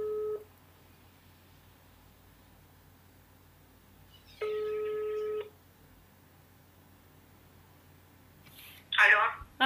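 Outgoing phone call heard through the handset: two long ringback tones separated by silence, then a voice picks up as the call connects.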